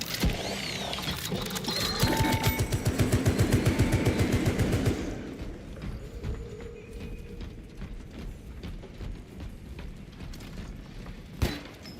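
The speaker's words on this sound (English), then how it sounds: "Activating tarantula sentry gun." A tarantula sentry gun fires in a video game, a loud, fast mechanical stream of shots lasting about five seconds. Quieter game ambience and scattered clicks follow, with one sharp impact near the end.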